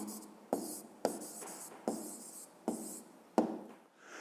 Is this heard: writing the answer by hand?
yes